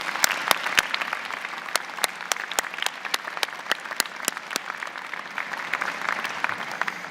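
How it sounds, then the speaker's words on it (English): A convocation ceremony audience applauds in a large hall, steady moderately distant clapping with distinct individual claps standing out, continuing evenly throughout. "please join me in a round of applause for the people who have helped you get here"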